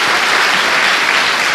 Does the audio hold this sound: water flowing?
no